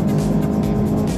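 BMW M850i engine pulls hard at high speed, a loud continuous low roar with road and wind noise inside the cabin, brief and steady.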